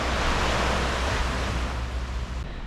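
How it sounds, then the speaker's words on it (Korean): Calm sea waves wash steadily at dusk on a Shikoku coast near Kochi, a soft continuous broadband surf hiss, close and even in level, with no talking. "오늘 파도가 잔잔하니까"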